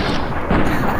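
A weapon fires a single heavy shot for a headshot in Fallout: New Vegas, a loud booming crack with a rumbling tail inside the game.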